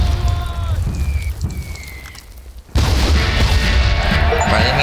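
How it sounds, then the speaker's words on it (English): In the battle game Warfare Legacy Collection, distant gunfire crackles before a sudden loud explosion bursts in, followed by a dense roaring rumble and scattered debris noise that continues to the end. "Lose 4 more men to a single explosion."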